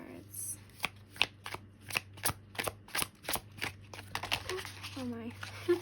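Tarot cards are shuffled and pulled from the deck in a series of crisp, evenly spaced slaps and riffles up close, followed by rustling and a brief voice.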